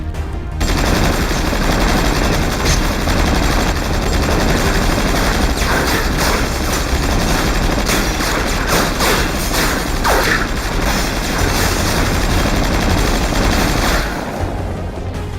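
Rapid naval gunfire from a Minotaur cruiser in World of Warships, sustained volleys of shells booming and crackling in a dense, continuous barrage that rolls on loudly for the whole stretch before cutting off.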